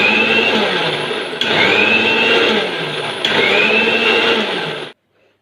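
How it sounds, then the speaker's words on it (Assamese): A mixer grinder whirs in short bursts, churning chocolate cake batter with a steady high whine, stopping and restarting three times before cutting off into silence. "এতিয়া মই ঢাকনিখন লগাই ইয়াক ভালদৰে মিক্সিত দি ল'ম একেৰাহে দি নাথাকৈ এবাৰ অফ এবাৰ অন কৰি"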